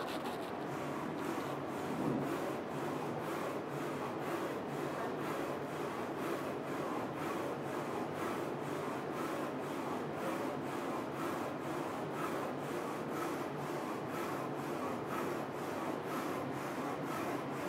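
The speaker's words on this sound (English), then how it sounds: "So now the machine start print." A Focus Alpha-Jet A2 UV printer prints on a bottle, giving a steady close hum with a regular rhythmic swish of the print carriage passing back and forth throughout, with no voices.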